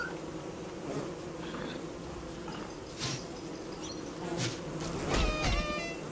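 Bees buzzing inside the video game Don't Starve Together, a steady insect drone continuing over a game soundtrack, with a louder swell near the end.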